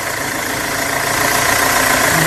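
A second-owner car with a Punjab registration, for sale at a used-car market in Malot, idles steadily and close by, its engine note continuous and fairly loud, with no clear cranking and no voices.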